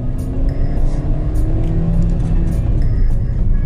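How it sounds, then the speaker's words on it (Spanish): The engine of a Baic X35 car climbing a hill strains and revs toward 5000 rpm, a loud, steady, close-up drone with no letup. "Después de esto a subirlo hasta 5000 revoluciones"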